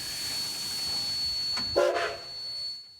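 A tourist steam train stands in a quiet setting, giving off a steady high hiss with a brief louder rush of noise partway through, with no talking.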